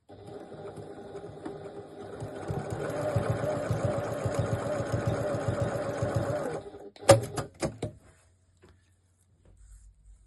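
A sewing machine runs a steady half-centimetre seam along a bag strap for a crossbody bag, humming continuously for several seconds before stopping, followed by a few sharp clicks and handling knocks.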